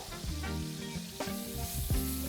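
Pepper, turmeric and coriander seed powder sizzle in hot oil with Kerala-style mutton chops, a close, continuous frying crackle with a few brief stirring bursts.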